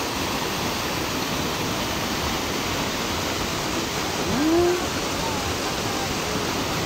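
Paeng Falls pours down in a loud, constant broadband rush of falling water that fills the whole stretch, with a brief faint vocal sound partway through.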